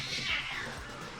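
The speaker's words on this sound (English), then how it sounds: "As my cats fight in the background" Cats fighting in a home, heard as a short yowling, hissing squabble in the background with faint room noise.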